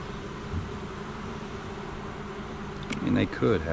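Honey bees in a queenless nuc give a steady, loud droning buzz that fills the whole stretch, with a couple of louder swells near the end.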